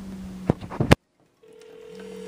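A few clicks and a tone cut off abruptly, then silence, followed by a home telephone's steady electronic ringing tone from a spliced phone line, starting faint and slowly growing.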